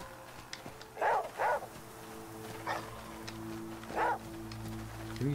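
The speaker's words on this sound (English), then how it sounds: "Who are you still barking at?" A dog in The Flame in the Flood barks a few times, with single and double woofs spread out in short bursts over a quiet background.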